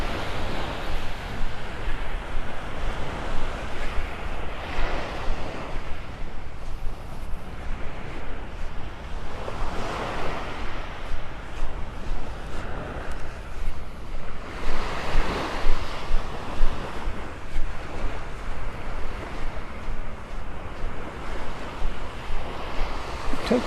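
Waves break and wash up on a white sandy beach at Pelican Bay Beach in North Naples, Florida, rolling surf swelling and receding in slow repeated surges under steady wind noise.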